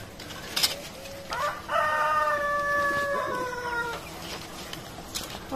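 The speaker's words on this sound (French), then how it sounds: "une petite poule pondeuse" Chickens and a rooster in a new henhouse: a rooster crows once at close range, with scattered clucks and hen noises around it.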